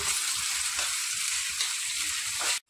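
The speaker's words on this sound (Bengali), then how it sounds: "এবার পেঁয়াজটা আমি ভালোভাবে লালচে বাদামি করে ভেজে নেব" Chopped onions frying in oil until reddish brown, a dense close sizzle running steadily with soft periodic stirring thumps underneath, then cutting off abruptly.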